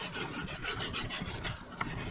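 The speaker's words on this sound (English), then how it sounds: "I get down in all the cracks and crevices and scuff those really" Interior parts of a 1969 Mustang Boss 302 are scuffed into cracks and crevices before painting, producing a close, continuous rasping scrub of rapid back-and-forth strokes.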